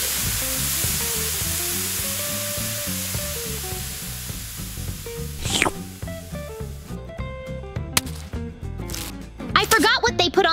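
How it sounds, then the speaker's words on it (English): Burger patties sizzle and fry in a pan, a steady loud crackle that runs throughout, with clatter and voices talking over it toward the end. "I'm going to fry up these delicious burger patties"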